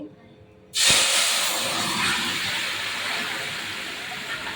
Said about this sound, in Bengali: জিরে তেজপাতা পুরো লাল হয়েছে, এবার আমি তরকারি দিয়ে দেবো।